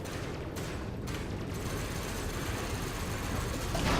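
Enemy ship weapons fire at the player in the space combat game Elite Dangerous, a dense, steady rattle of rapid shots with mechanical clatter, loud and close, swelling slightly at the end, with no talk.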